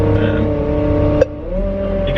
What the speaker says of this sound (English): So I've just increased the revs slightly.